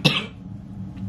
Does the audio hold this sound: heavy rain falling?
no